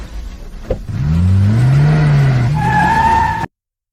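A car accelerates and drives off, its engine rising in a loud revving whine with a brief tyre squeal, close by, then cutting off abruptly.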